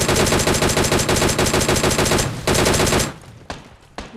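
Automatic gunfire in the BGMI battle royale game, loud sustained rapid bursts that cut off abruptly and are followed by a few scattered single shots, with no voices.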